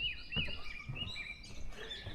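A wild bird calls in a Korean mountain forest, with repeated thin chirps and short tweets at moderate distance over a soft, steady outdoor background.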